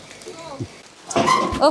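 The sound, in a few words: dog barking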